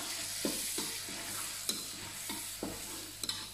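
A blended spice paste stir-fried in a pan for Malaysian mee soto ayam, hissing steadily while a spatula scrapes and clacks every half second or so, close and without talk.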